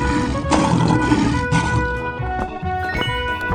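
Lion roar from a 3D animal video game, a short growling roar surging in bursts over game music and effects, with no talking.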